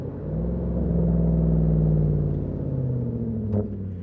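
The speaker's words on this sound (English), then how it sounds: "listen to this gorgeous Yamaha built V8" A deep Yamaha-built V8 engine in a Volvo S80 with a custom exhaust rumbles steadily at close range, its throaty burble swelling slightly before settling back.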